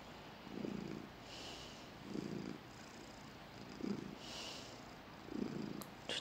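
A domestic cat purring close by in a cozy manga café, a steady low rumble swelling in four regular pulses about every one and a half seconds, alone without talk.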